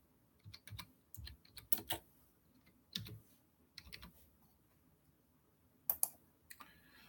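Irregular bursts of clicking keystrokes on a computer keyboard, quiet and close, arriving in short clusters separated by pauses, with no voices present.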